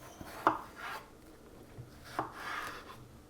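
A knife chopping through a cucumber on a board to cut it into quarters, two or three sharp close cuts with quiet gaps between.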